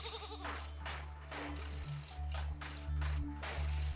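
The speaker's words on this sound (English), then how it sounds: "A sheep on snowshoes." A cartoonish sheep bleat from an alphabet learning game, repeated wavering calls over a steady synthesized musical backing, fairly loud and upfront with no talking.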